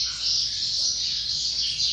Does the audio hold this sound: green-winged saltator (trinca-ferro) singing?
yes